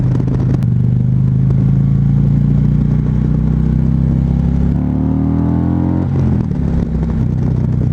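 A 2014 Harley-Davidson Street Glide motorcycle engine rumbles loud and close, a deep steady throb that rises in pitch as it revs up, then drops back to a lower rumble.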